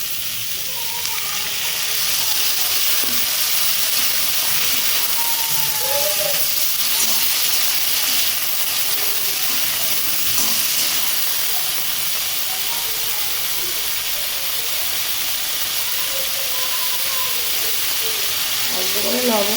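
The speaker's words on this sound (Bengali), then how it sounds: "দেখুন সবজিগুলো খুব ভালোভাবে ভাজা হয়ে গেছে, এটা এবার আমি আদা রসুনের পেস্টটা দিয়ে দেবো।" Capsicum and eggplant frying in a pan with ginger-garlic paste give a loud, continuous hiss of sizzling oil that holds steady for the whole stretch, with faint clinks near the end.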